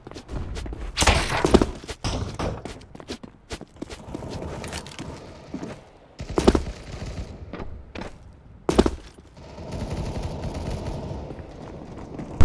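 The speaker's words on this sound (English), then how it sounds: "flashbang" A flashbang grenade going off in a video game shooter, among a burst of sharp gunfire-like bangs and thumps, with several loud transient cracks spread across the stretch.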